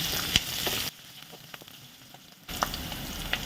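Fenugreek seeds frying in oil in a pan until golden brown for an egg gravy curry, a close steady sizzle with small crackles that drops to a faint hiss midway before the louder sizzling returns.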